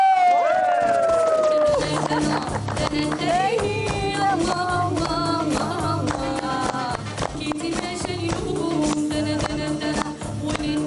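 A French TV studio audience claps and cheers for a guest being introduced on a summer talk show, a dense wash of applause and whoops with music-like tones sweeping through, fairly loud and continuous for about eleven seconds.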